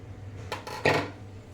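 A lid set onto a cooking pot of sweet coconut rice gives a few quick metallic clinks and a brief clatter over a low hum, then settles.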